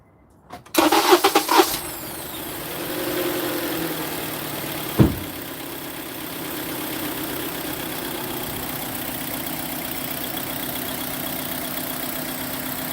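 A 2010 Honda Accord 2.4L engine cranks briefly and catches, then settles into a steady, even idle close by, with one sharp knock partway through and no talk over it.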